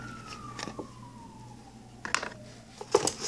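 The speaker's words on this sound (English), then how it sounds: "I think that was the ambulance." An ambulance siren wails faintly in the distance, its pitch sliding slowly downward as it fades, with a few soft clinks and knocks nearby.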